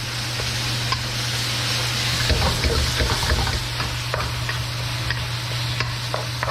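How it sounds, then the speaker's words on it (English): Curry paste for Thai basil pork stir fries gently in a pan, a close, even sizzle with light scraping stirs over a low steady hum, no voices. "stir fry gently."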